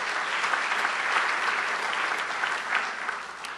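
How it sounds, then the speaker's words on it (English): An audience at a fall general faculty meeting applauds, a steady wash of many hands clapping at moderate distance, sustained for a few seconds without a break. "Let's give them a round of applause."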